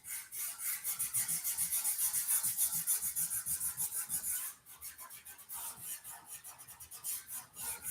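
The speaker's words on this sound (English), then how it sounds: "Give your pastel a good little rub" A pastel being rubbed on paper in rhythmic, scratchy strokes, close and quiet, repeating steadily with a brief pause midway.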